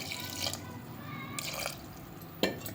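Water splashes and trickles into a cooking pot in a home kitchen, quiet pours and drips with a few brief louder splashes, set against faint background voices.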